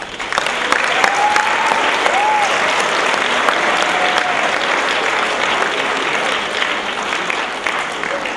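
Sustained audience applause welcomes a dance performance by a culture centre ensemble at a community event, a dense steady wash of clapping from a crowd with faint voices and a whistle-like tone weaving through.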